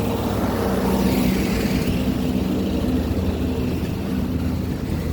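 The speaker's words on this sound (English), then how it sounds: "This big truck is coming." A big truck passing by on a nearby road, a loud, steady broadband engine and tire roar that holds across the whole stretch with a deep low rumble.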